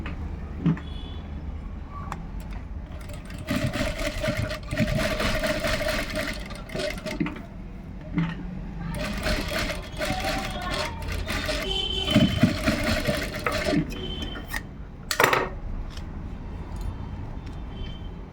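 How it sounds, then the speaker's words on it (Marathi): A sewing machine stitching lace onto a garment sleeve runs in steady mechanical bursts with short pauses between runs, close and fairly loud, no talking. "तर आता आपण स्टिच करून घेऊयात"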